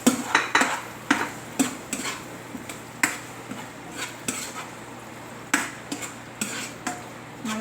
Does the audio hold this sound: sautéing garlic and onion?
yes